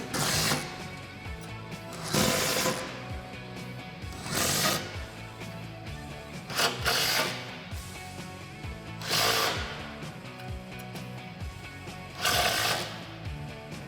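Bolts on a RedRock 4x4 Attack Stubby front bumper for a Jeep Wrangler JK are tightened with a power tool, giving repeated bursts of whirring and ratcheting noise, each a second or two long, with quieter mechanical sounds between them.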